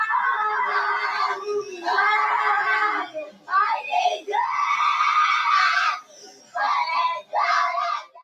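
A child screams in long, intense bursts, loud and close, with brief gaps and sobbing breaths between them and no other talk.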